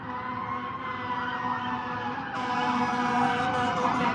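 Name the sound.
fire truck sirens passing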